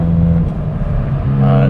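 Hyundai i20N hatchback in N mode, engine and exhaust droning loudly up close with a steady tone that dips briefly and then returns. A voice talks over it.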